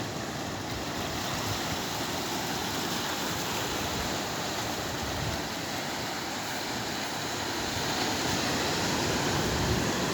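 Big Pacific ocean waves crash against an island shore in a steady, dense roar of surf that stays loud and unbroken throughout, with no voices.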